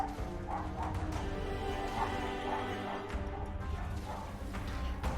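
Small dogs in the Guild Wars 2 video game bark and yip in a quiet, repeated series over a steady bed of game music and ambience. A few soft clattering hits mix in.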